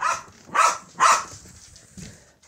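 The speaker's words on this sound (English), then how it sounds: "What's all the barking for?" A puppy barks indoors in three sharp, close yaps spaced about half a second apart, followed by a softer whimpering yip, with no speech over it.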